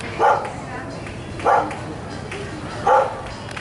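A dog guarding a handicraft stall in Candelaria barks three times at a steady, spaced rhythm, moderately close, over constant outdoor background noise.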